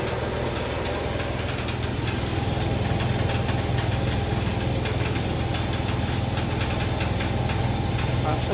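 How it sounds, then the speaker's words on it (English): A motor home engine idles inside an enclosed storage building, a steady low rumbling drone with a continuous mechanical knock and vibration, loud and unbroken throughout. "now let's go start the engine up and see what it does."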